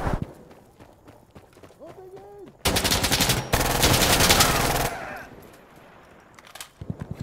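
Automatic gunfire in Insurgency Sandstorm erupts in a loud, dense burst of rapid shots lasting a couple of seconds and then fades. Excited voices are heard just before it.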